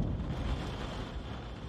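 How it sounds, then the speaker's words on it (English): Rain falls in sheets against glass, a dense steady low roar with deep rumbling that suggests thunder, continuous and fairly loud, with no talking. "The way that rain seems to fall in sheets against the glass."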